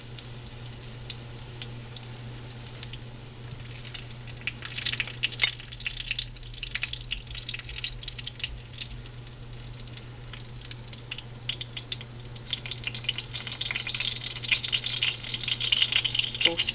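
Freeze-dried pork chops fry in a pan, a steady crisp sizzle and crackle that grows louder toward the end, with only faint talk.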